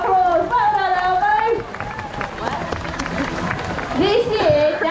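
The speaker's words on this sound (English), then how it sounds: "Massive round of applause." Crowd applause and chatter at a sea lion show at Pleasurewood Hills, Lowestoft, Suffolk, steady clapping from the audience with a voice talking and whistle-like tones over it.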